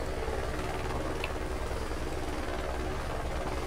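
Helicopter engine and rotor in a police roleplay game, a dense, steady whirring drone that stays loud and constant throughout, with no voices.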